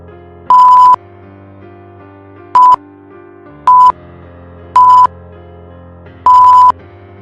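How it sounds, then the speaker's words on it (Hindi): A telephone line gives out a series of loud electronic beeps, five short tones at uneven intervals with silence between them. "वो फोन रिंग नहीं हो रहा था। It was just beeping."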